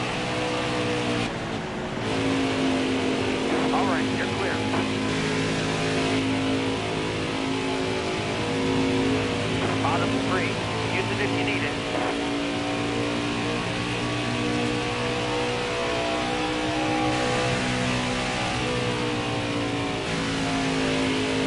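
Cup Series race cars at a Florida track under the lights, engines roaring steadily and loud for the whole stretch, with rising and falling revs as the pack races on, a continuous wall of engine noise.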